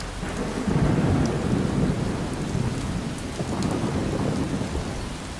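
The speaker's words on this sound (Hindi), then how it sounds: "जोर जोर से बादल गरज रहे थे और साथ में लगातार बारिश।" Heavy rain pours steadily in a thunderstorm, a dense hiss of drops on surfaces with deep rolling thunder rumbling beneath it, loud and continuous with no voices.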